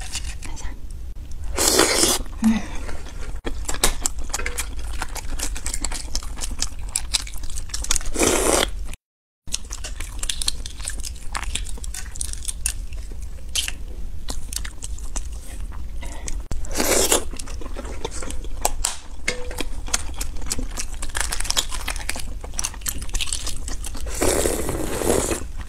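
Balut, fertilized duck eggs of the original flavor, is eaten up close with loud crunches, bites and wet chewing throughout, alongside occasional talk and a brief silent gap.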